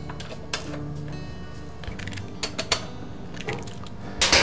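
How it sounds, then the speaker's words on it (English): Bolts holding a lawn mower ignition coil against the flywheel are tightened with a ratchet. Close, clicking ratchet strokes come in short runs with small metallic knocks between them, and no one speaks. "Now I'll push the coil firmly against the flywheel and tighten up the bolts."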